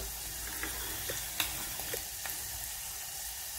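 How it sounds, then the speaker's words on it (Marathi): Soup mixture frying and sizzling in a pan, a steady fine crackle with a few sharper pops and ticks, close and fairly quiet, no talking. "पहा, भाजत आहे।"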